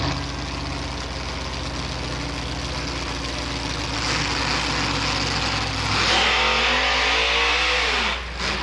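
Two monster trucks at a truck and tractor pull idle and rev their heavy engines before a drag race, a loud, continuous rumble that swells toward the end.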